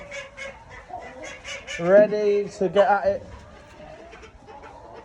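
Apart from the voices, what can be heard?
chickens clucking in winter coop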